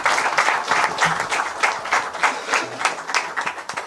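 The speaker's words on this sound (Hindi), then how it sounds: "जरा ताली वाली बजाओ इनके लिए।" Audience at a BJP office training session for young future leaders applauds with steady, dense clapping that stays fairly loud throughout, without speech.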